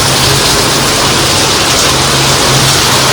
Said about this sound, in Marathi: आता आपण घराखाली पोहोचलोय आणि घराखाली आल्यावर पाऊस जरा पडायला लागला.